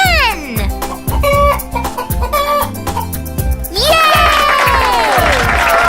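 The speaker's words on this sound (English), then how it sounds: "It's a hen!" A cartoon hen clucks in a children's farm-animal nursery-rhyme surprise-egg scene, with short repeated clucks set against cheerful backing music and bright voices.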